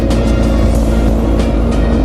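Heavy road traffic in Dagupan City, a constant low rumble of engines and passing vehicles, loud and close, with brief swells as cars go by.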